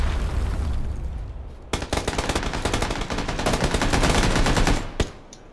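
Rapid machine-gun fire and bursts of gunshots in a heavy bombardment of grenades and gunfire in the video game PUBG. The shots come loud and dense in quick runs, over low rumbling booms, with no talk.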